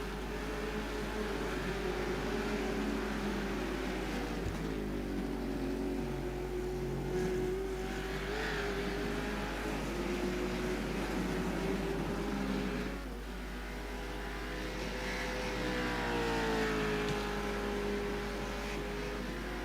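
Race car engine lapping Daytona International Speedway, a steady sustained engine drone with shifting pitch and small revs throughout, loud and continuous with no talking.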